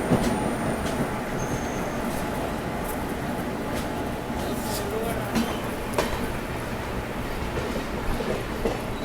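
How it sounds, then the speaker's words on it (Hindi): The 12423 Dibrugarh–New Delhi Rajdhani Express passes alongside while departing Prayagraj Junction, a continuous rolling rumble with scattered wheel clicks and rattles, steady and fairly loud throughout. "ये जो बगल से निकल रही है 12423 डिब्रूगढ़ नई दिल्ली राजधानी एक्सप्रेस प्रयागराज से डिपार्ट कर रही है इस समय"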